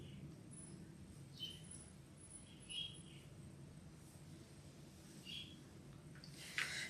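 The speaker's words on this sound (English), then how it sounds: "Those birds of mine are pretty loud today" Pet birds chirp indoors, giving short high tweets in scattered bursts that sound faint and somewhat distant over a low, steady background hum.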